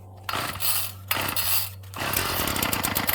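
A Ryobi 740r two-stroke string trimmer coming out of winter storage is pulled over a couple of times with rough rasping bursts, then catches and settles into a continuous buzzing, close-up engine run.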